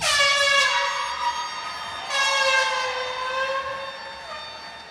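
Two long, blaring air horn blasts from an audience at a commencement ceremony sound in succession, the second starting about two seconds after the first, loud and sustained against a quiet background.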